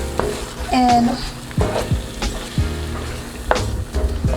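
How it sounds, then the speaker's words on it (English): Rum being mixed into pineapple tart filling in a pan, with a few spoon scrapes and knocks over a low simmering fizz, under a brief spoken word. "I'm going to add half a tablespoon of rum. And mix that in"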